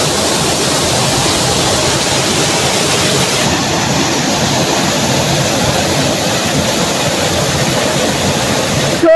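A river in the Nepali countryside rushes past close by, a loud, unbroken roar of flowing water with no voices over it.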